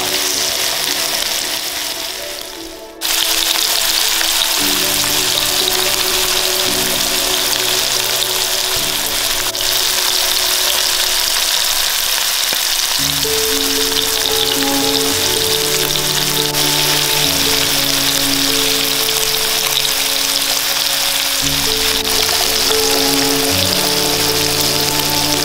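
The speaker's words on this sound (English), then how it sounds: "So, all we're doing now is a crispy sear on all sides." Chunks of meat searing crispy on all sides in a hot pan, a loud, continuous close-up sizzle that holds steady for the whole stretch, with a faint low tonal hum beneath.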